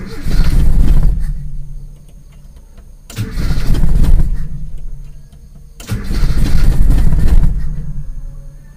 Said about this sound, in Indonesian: Oke, saya injak sedikit gasnya.